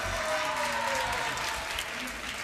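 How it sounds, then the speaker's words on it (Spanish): Studio audience applause on a Chilean TV singing show, a steady wash of clapping filling the whole stretch at moderate level, with a faint tonal line and possible voices mixed underneath. "Aplauda con confianza, señora, que le duelen las manos."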